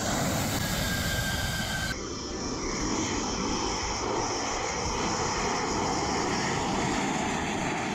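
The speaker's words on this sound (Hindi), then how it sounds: "फाइटर प्लेन राफेल की हैप्पी लैंडिंग हुई है।" A loud, steady roar of Rafale fighter jet engines on landing, broadband and continuous with a sharp change in tone partway through, with no voices.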